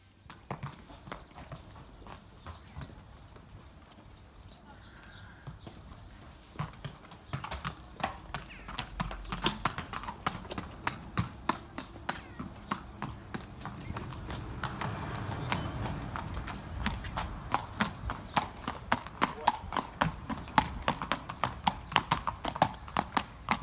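A racehorse walking out of the stables, its hooves clip-clopping in a steady rhythm that grows louder and closer, with the odd faint voice in the background.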